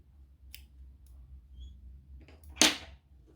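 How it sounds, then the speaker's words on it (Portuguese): Scissors snip through leftover yarn while a Frida doll is being made: one crisp, close cut stands alone over a low, quiet background hum. "Aí pode cortar o excesso aqui"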